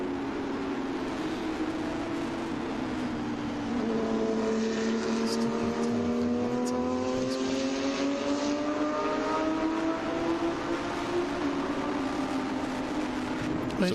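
An Allard race car driving at speed on a track during a vintage race, its engine droning steadily with a pitch sweep as it passes and accelerates, heard at a moderate distance and loud throughout.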